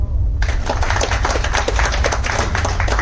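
Dense audience applause at a business orientation meeting in a hotel residency hall, starting abruptly and continuing loud and sustained, with many hands clapping close together.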